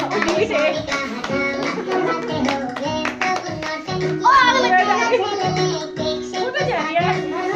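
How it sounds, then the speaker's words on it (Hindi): Hands clap in sharp, uneven bursts at a birthday gathering in a home, close by and mixed with children's chatter and music-like tones throughout. "और लगी भाई वाला तालियां तो बजा रहा हूं।"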